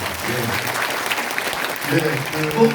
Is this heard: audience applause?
yes